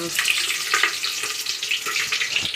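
Chillies fry in hot oil for a bhaji masala, giving a steady, close, bright sizzle with small crackling pops throughout and no talking.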